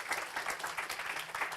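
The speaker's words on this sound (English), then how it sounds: "please join me in thanking them and give a big round of applause" Applause for the speakers at an academic conference on European and Eurasian studies, a soft, steady patter of clapping heard faintly and at a distance, with no voices over it.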